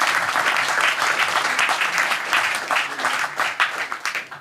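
Audience applause fills an evening debate event about a Ukraine peace plan, a dense, steady wash of many hands clapping close by that thins into scattered claps near the end.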